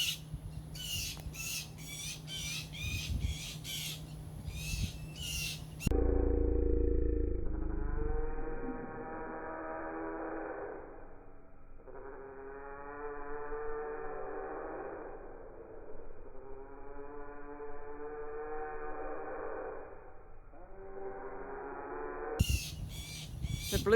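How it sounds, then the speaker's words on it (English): Blue jays squawk and caw harshly in a backyard scuffle with a dove, several rough, raspy calls repeating in bursts at moderate distance, with a low rumble partway through and no speech. "The blue jays are fighting."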